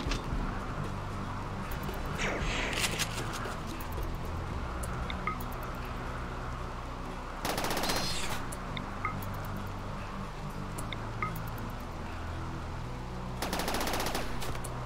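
Gunfire from a RimWorld battle against a faction base, with scattered shots and short bursts over a steady busy game soundscape, with a few louder volleys standing out.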